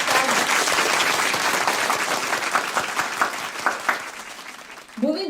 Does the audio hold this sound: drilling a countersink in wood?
no